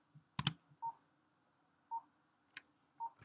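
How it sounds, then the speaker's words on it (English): Short electronic ADR cue beeps from Pro Tools, spaced about one second apart and faint, along with a few brief clicks, with no voices. "made up of three beeps each second"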